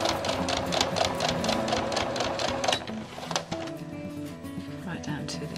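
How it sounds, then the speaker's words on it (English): A sewing machine top stitches across an apron in a steady mechanical run, with faint talk alongside, then the rhythm shifts and slows toward the end. "I'm just top stitching all the way across"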